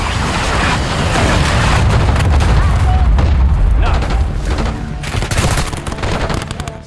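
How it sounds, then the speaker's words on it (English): Grenade explosions and gunfire in the Black Ops 6 video game: loud, dense booms and rapid crackling shots pile up over several seconds, with a fresh burst of sharp fire near the end, and voices mixed in. "Throwing grenades."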